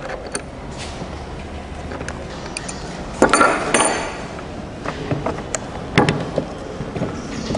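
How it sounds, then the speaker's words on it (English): A spanner tightening a 12 mm nut on a homemade generator, heard as scattered metallic clinks, taps and short scraping knocks over a quiet background, with two louder bursts of clattering. "You take your spanner, it can be ring, it can be flat, as long as the spanner is, this nut is 12 now."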